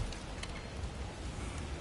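A desert storm in the video game God of War Ragnarok, a dense, unbroken roar of wind-driven sand or rain, steady and moderately loud with no voices.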